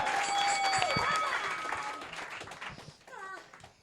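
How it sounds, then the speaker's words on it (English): An audience at a comedy roast tournament claps before a round, a short burst of applause mixed with music stings and some voices, fading after a few seconds. "Ladies and gentlemen, clap your hands."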